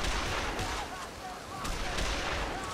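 Gunshots in Dead Island Riptide, a few heavy blasts and cracks ringing out over a noisy, busy game soundscape.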